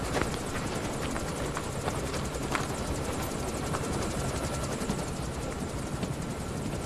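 In Metal Gear Solid V: The Phantom Pain, a helicopter gives a steady rotor thrum with rapid rhythmic chopping that holds at a constant level throughout.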